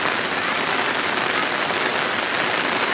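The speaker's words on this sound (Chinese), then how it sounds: "就是这边雨下的有点大，好大的雨啊。" Heavy rain pours down steadily in Ulan Butung, a steady close wash of dense drops with no voices, unbroken for the whole stretch.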